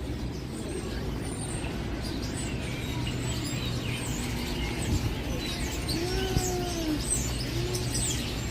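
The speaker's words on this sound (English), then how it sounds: "Listen to those birds." Birdsong at an outdoor street rally in Washington, DC: scattered chirps and a few whistled calls over a steady crowd and traffic murmur, moderately distant.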